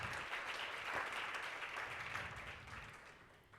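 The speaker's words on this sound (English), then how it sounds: "Can we give them both a round of applause again?" Applause from the audience at a nonprofit pitch community event, a full steady clatter of many hands that stays strong and then tapers off in the last second.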